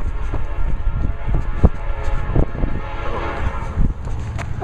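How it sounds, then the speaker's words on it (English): A steady low rumble and clatter of a passing coal train in Aldrich, Minnesota, fairly loud and continuous, with a few sharper knocks along the way. "looks like a train is going by or something"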